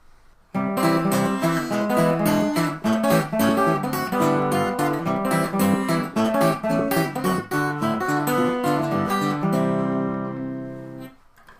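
Fast, bouncy fingerpicked acoustic guitar playing a ragtime tune, with a steady alternating bass under busy melody notes, close and clear, ending on a sustained chord.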